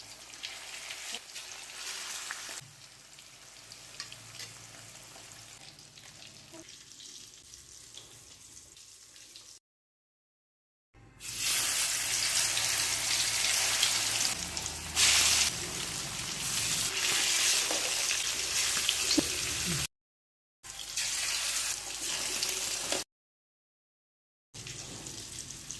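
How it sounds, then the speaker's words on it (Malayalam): Fish for a Kerala-style fish biryani frying in a pan: a bright, loud sizzle in long stretches broken by brief silent gaps, with quieter kitchen clatter and possible water running at the start. "അപ്പോൾ മീനെല്ലാം നമ്മളിവിടെ വറുത്തെടുത്തിട്ടുണ്ട്."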